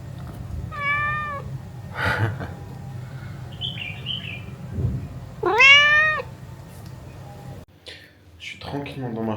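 A cat meows several times at sunset on Gili island in Indonesia, clear and fairly close, with rising, wavering cries spaced between bird chirps and light background sound.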